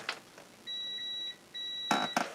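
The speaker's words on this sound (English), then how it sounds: "So I'm going to do a beep beep test on this thing here" Continuity beeps from a multimeter probing a capacitor on an Amiga 4000 board: two steady high beeps about half a second each, with faint clicks of the probes around them.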